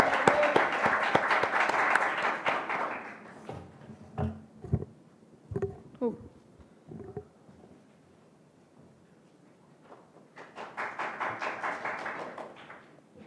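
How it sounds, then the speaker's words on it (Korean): Applause from an audience at a youth speech contest, a burst of many hands clapping that fades out, a stretch of scattered taps and knocks, then a second round of clapping rising near the end. "박은서 학생의 연설을 박수로 들어보겠습니다."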